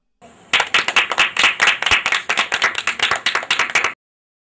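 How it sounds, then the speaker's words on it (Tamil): A small group claps for a child during a puppet show, bright rapid hand claps building quickly and continuing in an uneven, energetic burst for about three seconds before stopping abruptly. "நாமெல்லாம் சேர்ந்து அவளுக்கு நல்ல ஒரு கைத்தட்டு கொடுத்துடலாமா?"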